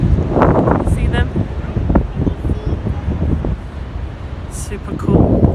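Strong coastal wind buffets the microphone on Weston-super-Mare beach, a steady broadband roar with gusting swells, while a person talks over it.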